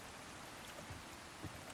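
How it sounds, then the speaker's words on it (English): Steady rain falls in the Resident Evil 4 Remake game, a soft, even hiss of drops throughout with a few slightly stronger patters and no voices. "Look at the rain falling on his hair."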